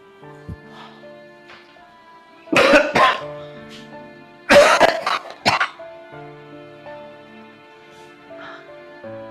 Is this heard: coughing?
yes